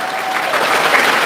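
A church audience applauding during a heated debate, a dense burst of clapping from many hands filling the room, loud and steady for about a second, with no voices heard.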